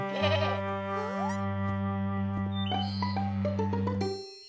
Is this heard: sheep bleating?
yes